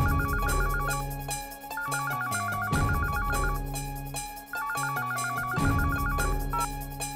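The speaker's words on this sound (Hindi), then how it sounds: "अहम भाई, आपके लिए जिगर भाई का फोन।" A telephone ringtone plays in a household scene, a repeating electronic melody in bursts of about two seconds, clear and close over a low musical background.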